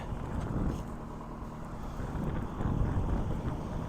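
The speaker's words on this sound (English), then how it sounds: "This wind is ridiculous out here." Strong wind buffets a microphone outdoors beside a 2018 Toyota RAV4 XLE, a steady low rushing roar with gusty swells, loud and continuous with no voices.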